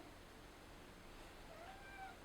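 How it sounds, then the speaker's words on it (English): A house cat meows faintly a few times indoors, short thin calls rising near the end over a quiet steady room hiss. "There's a cat behind me, isn't there?"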